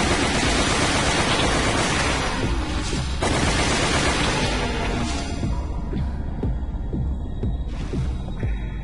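Rapid video game gunfire in Resident Evil: The Umbrella Chronicles comes as a dense, loud barrage of shots and blasts under broadband noise, easing into scattered separate reports toward the end.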